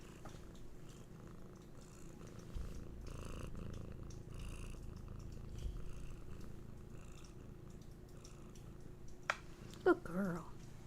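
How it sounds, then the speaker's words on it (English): Two cats purr close into a microphone, a soft continuous rumble that goes on throughout, with a few brief louder sounds near the end. "you two always have purrs for the microphone"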